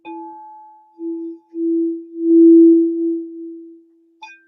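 A singing bowl is struck and then lightly tapped on the rim, giving a pure hollow ringing tone that swells and fades in several pulses, followed by a brief brighter strike at the end; no voices.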